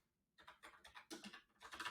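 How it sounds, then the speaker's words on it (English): Rapid clacking of keys on a computer keyboard in uneven bursts, close and fairly quiet, with a short pause partway through. "Typing under the pressure of camera is always fun."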